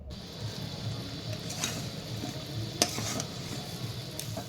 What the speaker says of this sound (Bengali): গজাগুলো দেওয়ার পর এইভাবেই গজাগুলোকে তিন থেকে চার মিনিট চিনির শিরাতে ফুটিয়ে নিতে হবে খুব ভালো করে